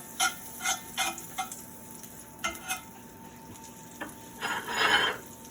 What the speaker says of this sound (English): I'm going to put my butter in there. I'm going to move my butter around.